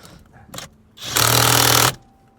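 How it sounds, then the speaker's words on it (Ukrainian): A handheld impact wrench runs in one loud, steady burst of about three-quarters of a second while motorcycle handlebars are being changed on an older Japanese bike, with a few brief knocks before it and quiet after. "Береться такий гайковерт."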